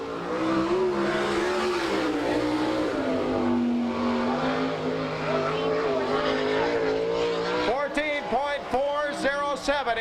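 All Star sprint car on a dirt oval at Salina, Kansas, coming around to finish a lap, its engine droning loudly and steadily before revving in sharp rising and falling surges near the end.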